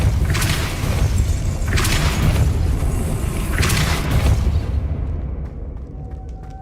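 In Hogwarts Legacy, repeated Depulso force spells hit as a series of heavy booming whooshes over a rumbling game soundscape, then fade out toward the end.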